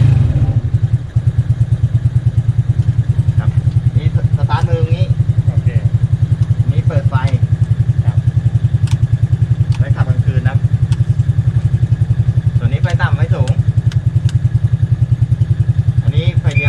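A samlor motorized three-wheeler's engine idles steadily and loudly near the listener throughout, a low throbbing drone with a few clatters and knocks on top, while someone talks over it.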